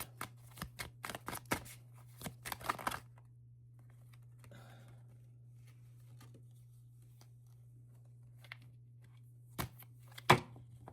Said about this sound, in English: I was not shuffling correctly.